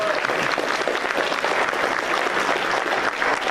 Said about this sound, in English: everybody applaud him for that